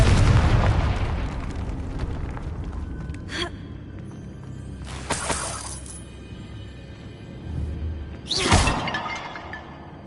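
Confringo fire spell blasts in the video game Hogwarts Legacy: three sharp, loud bursts spaced a few seconds apart, each flaring and fading over a rumbling game background with no voices.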